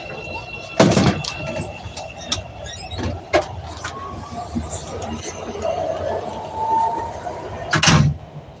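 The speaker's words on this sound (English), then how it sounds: "Doors closing." Doors of a CTA Red Line train at Bryn Mawr station close, marked by two loud sharp thuds several seconds apart over the rumbling hum of the train interior.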